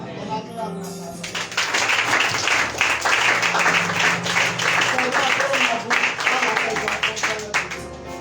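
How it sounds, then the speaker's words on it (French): A church congregation breaks into sustained applause for the word during a worship service, a loud, dense wash of clapping that swells and holds for several seconds, with voices mixed in. "On acclame la parole."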